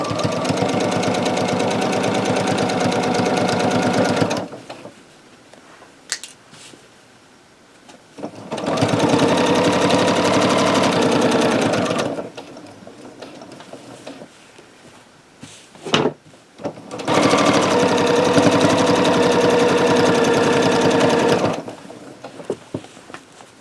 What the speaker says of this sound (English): we'll stitch this block on where we have it pinned